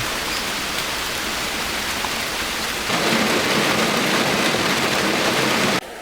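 Steady rain pours down on a farm, a dense, even hiss throughout that grows heavier about halfway through before cutting off abruptly near the end, with no voices.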